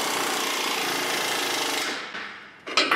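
A power tool hammers rapidly while torquing a strut bolt on a Ford F-series truck, a dense rattling burst for about two seconds that tapers off, then a couple of short metallic knocks close by.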